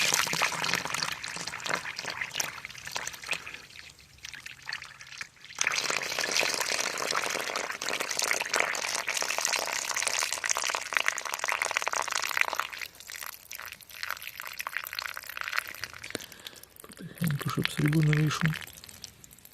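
Water being poured during silver refining, with bursts of splashing, hissing liquid that stop and start and a gurgle near the end, while a voice talks at times.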